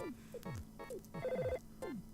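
Electronic telephone ringing in the Earthbound video game, a repeating chirpy chiptune ring tone with falling blips and a short sustained beep, heard alone at moderate volume.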